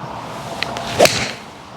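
A 7-iron golf swing: a quick swish followed by a single sharp, bright click of clubface striking the ball, close and alone, with a brief fading ring.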